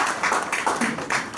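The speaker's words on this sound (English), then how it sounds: "Let us start this morning with a huge round of applause." Audience applause at the morning launch of a fertility center in Attapur, Hyderabad, a steady broadband wash of clapping that rises and falls in soft waves, moderately loud and continuous throughout.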